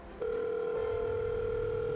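A phone rings in a Hindi TV serial scene as a steady electronic tone that starts abruptly and holds evenly at moderate volume, with no one talking.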